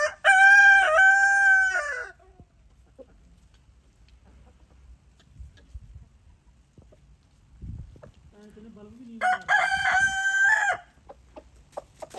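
A desi (native breed) rooster crows loudly twice, near and long, with soft clucking from hens and faint voices in the quieter stretch between.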